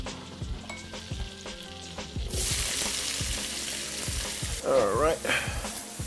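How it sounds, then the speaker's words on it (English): Vegetables for lobster fried rice sizzle steadily in a hot pan, with a quiet stretch of frying giving way to a louder burst and repeated scraping stirs near the microphone; a voice speaks briefly. "Just giving it a quick stir to make sure it's cooking evenly."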